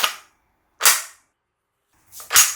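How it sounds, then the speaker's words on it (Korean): Three sharp metallic clacks from the bolt and trigger mechanism of a full-metal Denix Thompson 1928 SMG replica, spaced apart and close, in an otherwise silent room. "볼트와 트리거 메커니즘도 정상 작동하고요."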